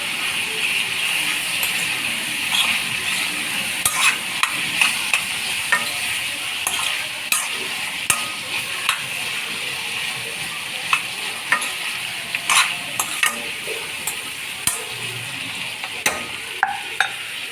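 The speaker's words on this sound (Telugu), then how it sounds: "ఇప్పుడు ఈ టమాటా అంతా మగ్గిపోవాలి మంచిగా కుక్ అవ్వాలి" Tomatoes frying in a curry pan with a steady sizzle, broken by repeated clinks and scrapes of a spoon stirring at an uneven pace, close and moderately loud.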